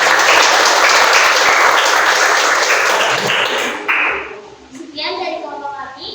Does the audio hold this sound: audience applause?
yes